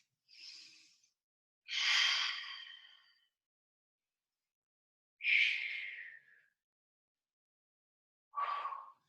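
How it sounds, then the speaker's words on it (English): Four deep breaths during a Pilates mat abdominal exercise, each an airy, breathy exhale of about a second, spaced apart with silence between, close and fairly soft. "I'm going to take 3 breaths"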